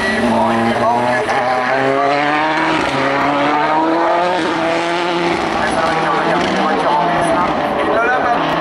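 Rallycross Supercars race through the joker lap at Lohéac, loud engines revving and shifting continuously as cars pass, with a commentator talking over the motor noise.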